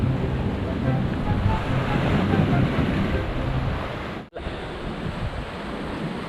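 Strong wind roars steadily at sea during bottom fishing on the Andaman Sea, a loud, continuous rush with surf-like noise that drops out briefly for a moment before resuming.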